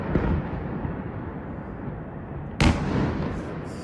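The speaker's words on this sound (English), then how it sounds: "We hear the explosions in the nearby area in the city." Distant explosions from a missile attack on Kyiv echo through the city, a rolling rumble that gives way to a sharper, louder blast with a long reverberant tail, heard from afar with no talk.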